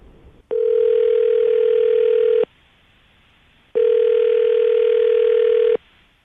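Telephone ringback tone heard while a call is placed on an American phone line, two long steady buzzing rings separated by a pause of about a second, loud and clear.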